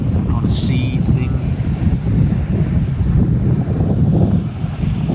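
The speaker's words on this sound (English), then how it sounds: "Probably getting a bit windy now." Wind on a beach booming across the microphone in a steady low roar, with surf likely underneath and faint higher sounds at the start.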